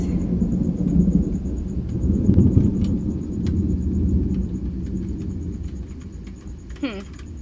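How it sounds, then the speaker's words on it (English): Thunder rumbles low and steady through a stormy night outside, with a broad continuous roar and a louder swell near the middle, plus faint rain texture and a few light clicks and a brief chirp near the end. "Especially if storms are gonna be loud like that. It is storming very nicely out there too."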